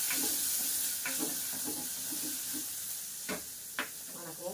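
Small and large onions with dried red chillies sautéing in a pan, a steady low sizzle with repeated scraping stirs and a couple of sharper clinks, heard close with no talking.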